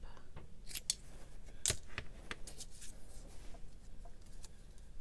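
Scissors snip through an envelope shape cut from paper during a die-cut craft project, several sharp close clicks and crisp cuts scattered over a soft rustling background.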